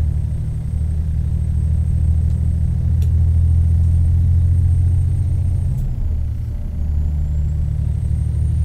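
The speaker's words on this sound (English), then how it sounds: "Listen to that rumble" A Kenworth W900A truck in American Truck Simulator drones with a steady, deep, heavy engine rumble that holds constant for several seconds, with no talking.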